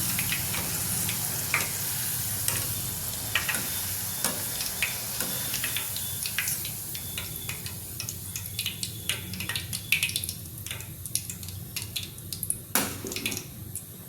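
Cauliflower frying in hot oil gives a steady, dense sizzle with scattered pops and the occasional clink of a utensil against the pan, fairly quiet and close, with no talking.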